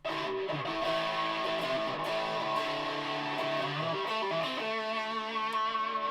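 A Fender Stratocaster with a Fernandes sustainer plays through a Rat distortion pedal, sustained crunchy chords ringing continuously and loudly with no pauses.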